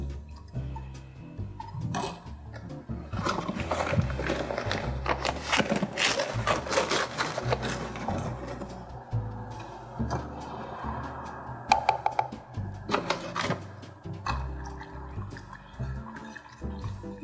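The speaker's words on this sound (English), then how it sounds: "we're going to continue to stir until it is all dissolved in" A spoon stirring sugar into pomegranate juice in a pot while making grenadine, giving continuous scraping and sloshing strokes, close and moderately loud, with no talking.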